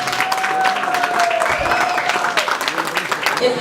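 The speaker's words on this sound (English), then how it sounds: "A round of applause for Mark Appel, please." A room full of people at a multicultural advocacy event gives a sustained round of applause, dense steady clapping with some voices mixed in.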